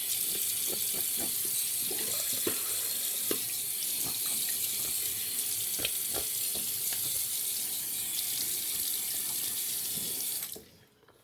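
Tap water running steadily into a sink during face rinsing after a shave with Dracula soap, a constant hiss punctuated by splashes, close and fairly loud, before the flow cuts off at the end.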